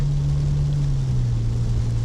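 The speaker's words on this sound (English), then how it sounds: "Here the exhaust go a bit quieter" A steady, low droning exhaust hum from a 2022 Ford Ranger Raptor pickup cruising along in a quieter exhaust mode, constant and fairly loud with no breaks.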